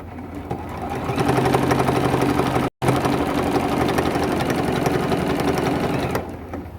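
Sewing machine without a walking foot stitching a large T-shirt quilt, a loud, close, steady mechanical hum and rapid needle clatter that runs almost continuously, broken by one brief gap, with no voices.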